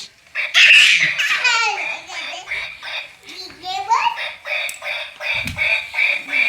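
Ducks quack in a home garden while young children chatter and laugh over them, the voices close and lively throughout.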